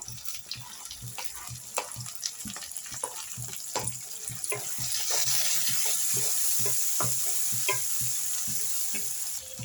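Chopped tomato stirred into frying onions for mutton dry, a continuous sizzle with rapid, repeated scraping strokes of a spatula in the pan, close and steady, the frying hiss growing louder halfway through, no talking.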